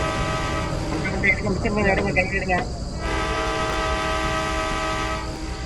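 In the fan-made horror video game Choo Choo Charles, the monster train blasts a long, steady horn that holds for several seconds, with brief voices heard over it partway through.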